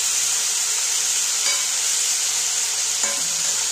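Pieces of tuna fish fry in hot oil in a pan, a steady loud sizzle and hiss throughout with a couple of faint metallic clinks of a utensil.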